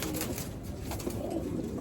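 Racing pigeons in a loft coo with soft, low, steady murmuring that fills the background, close but quiet, with no speech.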